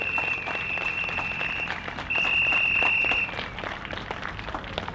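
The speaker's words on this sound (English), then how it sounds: "can we give him a round of applause to welcome him to the stage?" Audience clapping steadily at moderate distance to welcome a speaker to the stage, with a high electronic tone sounding over it for a few seconds.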